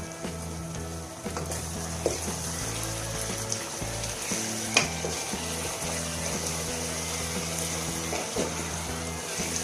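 Arvi chicken is stir-fried in a pan with a continuous hiss and sizzle under low humming background tones, with occasional scraping of the spoon against the pan, close and steady.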